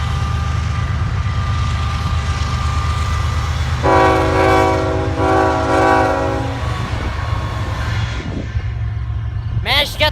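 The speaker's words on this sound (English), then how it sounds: "Managed to get them to blow the whistle. Or excuse me, the horn." The Greenbrier locomotive sounds its horn, a loud sustained chord held for a few seconds and blown twice over the steady rumble of a passing train nearby.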